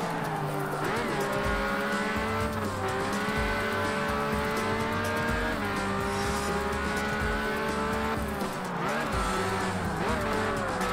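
A Lamborghini race car in a racing video game drives with a steady, loud engine drone, its pitch rising and dipping through gear changes and turns, with some tire noise.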